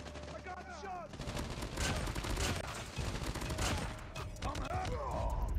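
Rapid hipfire bursts from a Type25 rifle in Call of Duty Mobile, fired with no attachments, crackle continuously through most of the stretch, loud and dense, with brief game sounds and a voice faintly underneath.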